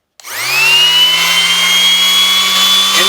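A Jellas random orbital sander switches on and spins up to a steady, loud whining hum with a high tonal whine, running alone without talk for about three seconds.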